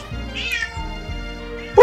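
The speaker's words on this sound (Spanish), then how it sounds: "No sé si está mi gata loca por ahí maullando." A pet cat meows: a single drawn-out, fairly loud meow near the mic, with low background game sounds and a sharp noise at the end.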